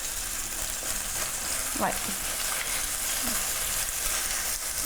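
Chicken thighs brown in a frying pan with a constant bright sizzle and spitting crackle, while a voice briefly murmurs a short word over it midway.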